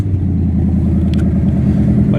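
A loud car engine idles steadily at the end of a Gambler 500 off-road rally trip, its deep, rumbling low drone constant and close, with a faint clatter partway through.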